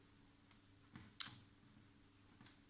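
Letter cards from a kindergarten classroom word game being flipped over one at a time, giving a few faint, separated soft clicks and taps, with one sharper snap near the middle, alone in a quiet room.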